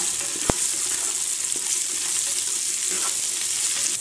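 Garlic and cumin in oil give off a steady, close sizzle, with onions being added for a rice and dal dish. A single sharp knock lands near the start, and the frying continues evenly with no one talking.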